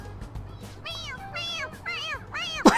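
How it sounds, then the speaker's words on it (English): A stuffed cat toy in Persona 5 Royal lets out a series of four bright, wavering meows in quick succession over a low game hum, ending with a loud burst. "It meows when you press on its head."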